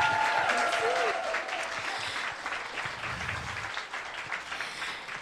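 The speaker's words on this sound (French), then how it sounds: "On applaudit Cécile." Audience applause at a climate action event hall, a dense steady wash of clapping that starts loud and slowly thins, with a few faint voices and whoops mixed in.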